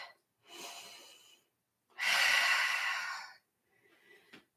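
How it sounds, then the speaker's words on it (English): Deep breaths during a yoga practice, taken after coming up to standing mountain pose: two long, close exhalations, the second louder and fuller, then a faint shorter breath at the end, with quiet gaps between. "Take a few breaths."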